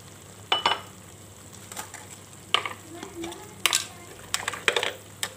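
A spatula stirs seasoning frying in oil in a pan for baby squid sambal, giving sharp scraping and clinking strokes at irregular intervals over a faint sizzle.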